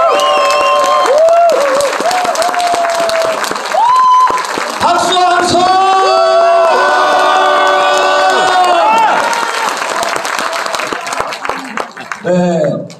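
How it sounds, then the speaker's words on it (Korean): A crowd claps and cheers loudly at a book launch event in a library as music plays, with shouting voices mixed in, the applause fading toward the end. "다시 한번 박수 한 번 부탁드리겠습니다"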